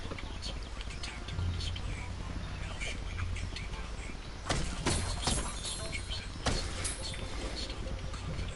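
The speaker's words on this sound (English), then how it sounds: "I hear seagulls" Seagull-like calls in the Asterix and Obelix XXL 3 video game come in repeated squawking bursts over a busy beach-style game ambience, with a few sharper cries standing out.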